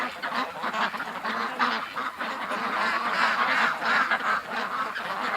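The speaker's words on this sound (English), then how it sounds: "that's a mess of ducks, guys" A large flock of ducks quacks and honks in a dense, continuous chorus, loud and close, with overlapping calls filling the whole stretch and no talking over it.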